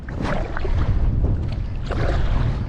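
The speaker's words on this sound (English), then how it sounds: "Let's do some sup paddling here." A Bonafide SKF 117 hybrid skiff is paddled standing up with a kayak paddle on open water. Heavy wind buffeting and low rumbling noise largely mask soft, watery paddle strokes, and no one talks.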